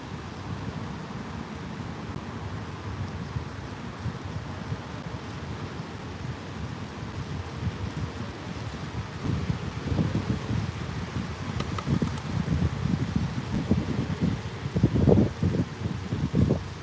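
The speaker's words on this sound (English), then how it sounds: "It's just a little bit windy now." Steady wind buffeting the microphone with a low roar, growing gustier and louder in the second half, no voices.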